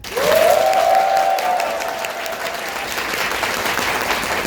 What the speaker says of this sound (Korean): 제가 손을 이렇게 하면 모두 미친 듯이 박수를 쳐주시는 겁니다.